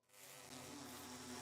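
A steady, droning buzz from angry bees swarming out of a hive in the video game Minecraft fills the short moment, dense and continuous with no voices.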